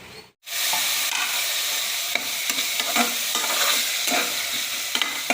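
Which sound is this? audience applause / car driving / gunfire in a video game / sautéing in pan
sautéing in pan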